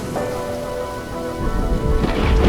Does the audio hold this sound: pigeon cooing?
no